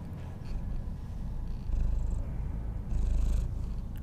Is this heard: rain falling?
no